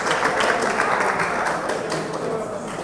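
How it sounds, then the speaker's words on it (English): A classroom of students applauds a student, a dense, steady patter of many hands clapping together for a few seconds, gradually easing toward the end. "Please, let's clap for him."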